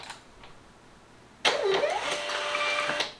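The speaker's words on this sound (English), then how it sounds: "Watch how fast this prints." A label printer runs after a quiet pause, its motor whirring loudly and evenly for about a second and a half before stopping.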